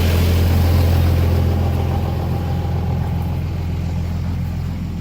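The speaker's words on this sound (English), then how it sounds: "this truck is so loud" A loud truck engine idles close by on a residential street beside an old house, a steady deep rumble that holds evenly throughout with only slight shifts in pitch.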